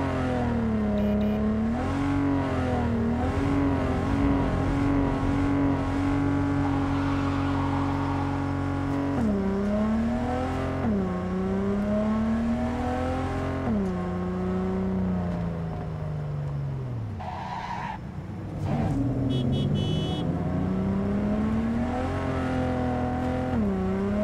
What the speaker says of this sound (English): I spent 2 hours listening to different engines of vehicles because they spend so much time on it